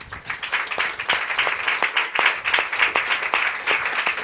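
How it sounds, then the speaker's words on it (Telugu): A church congregation applauding: dense, loud, steady clapping from many hands that carries on throughout without a break. "చప్పట్లు కొడదాం ఒకసారి"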